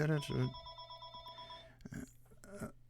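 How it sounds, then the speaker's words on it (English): An incoming call sets a telephone ringing with a steady electronic trill that lasts about a second and a half, close and clear, followed by brief voice sounds. "Okay, I'm getting a phone call here"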